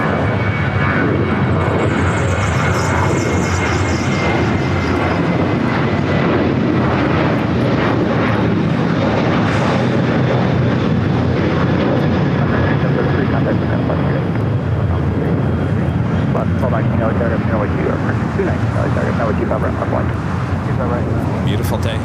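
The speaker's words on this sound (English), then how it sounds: "Next takeoff is Sun Country Airlines, flight 8733, a sports charter heading to Houston, Texas" A Sun Country Airlines Boeing 737-800 sports charter takes off at LAX with a loud, sustained jet engine roar that swells and carries throughout, with a person talking over it.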